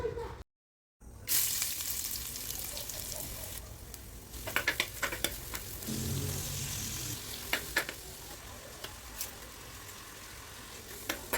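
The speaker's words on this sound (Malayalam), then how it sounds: "സവാളയും കൈപ്പക്കായും ചെറിയ ഉപ്പിട്ടിട്ട് നമുക്ക് വാട്ടിയെടുക്കാം" Sliced onion and bitter gourd with a little salt sautéing in coconut oil, a steady sizzle with a brief dropout near the start and scattered utensil clinks and pops.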